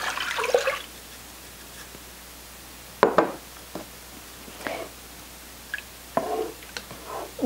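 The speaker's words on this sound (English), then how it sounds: "Now what we're going to do is add 4 cups of a vegetable broth." Vegetable broth is poured into a slow cooker of onions for a cheddar vegetable chowder, giving several short, close splashing and gurgling bursts spaced apart over a quiet background hum.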